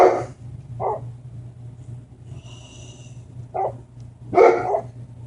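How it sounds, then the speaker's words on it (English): Inside a wine shop, a dog barks back at a recording of its own barking at the beach, giving several short, separate woofs spread over a few seconds above a low steady electrical hum. "barking because I'm playing this video of him at the beach barking at a buoy"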